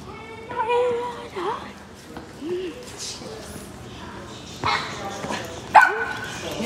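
An excited dog barks, yips and whimpers in scattered bursts at close range, mixed with a person's voice talking over it.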